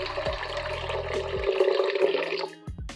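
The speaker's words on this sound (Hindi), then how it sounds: "सबसे पहले मैं डाल रही हूँ यहाँ पर पानी" Water being poured into a blender jar, a continuous splashing, gurgling pour close by that runs steadily before cutting off near the end, with a couple of faint knocks.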